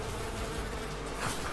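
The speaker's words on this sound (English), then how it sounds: "God, the bloody bees" Swarming bees in the Far Cry 5 video game, a steady, dense droning buzz filling the whole moment without a break, loud and close with no voices over it.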